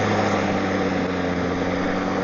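A Milwaukee 2823-22HD battery-powered electric lawn mower mowing a lawn, giving a steady, continuous motor and blade whir with low hum, fairly quiet and even throughout with no voices.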